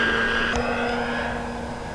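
A Carbon-Z T-28 RC airplane passes overhead with a steady, fairly loud motor drone and a high whine that holds for about two seconds, with no voices.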